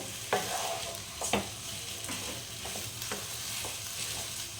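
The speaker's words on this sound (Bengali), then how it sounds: "এইভাবে ভেজে নিতে হবে আলুটা" Spiced mashed potato filling for aloo chop frying in a pan: a quiet, even sizzle broken by a handful of light spatula knocks and scrapes, heard close with no voices.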